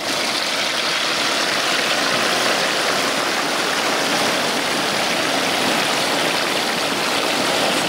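A whole turkey fries in a pot of hot oil, giving a loud, steady, dense roar of bubbling and sizzling that holds unchanged throughout, with no talk over it.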